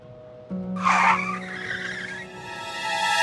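A car's tires skid and squeal loudly for about two seconds, a sustained screeching over engine noise, then a steady tonal hum continues.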